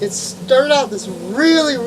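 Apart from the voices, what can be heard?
None of the usual background noises is heard.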